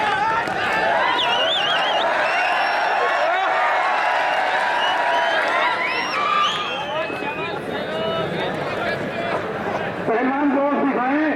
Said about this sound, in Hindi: जोरदार ताली पहलवानों के नाम पर